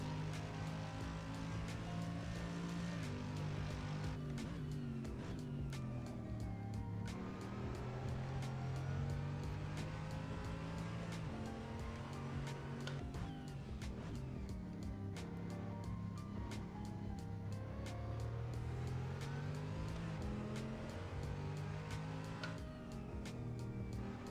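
Race car engine during a lap in a sim racing game, heard as a moderate whining drone that rises and falls in pitch with gear changes and throttle, broken by brief clicks, with no talk.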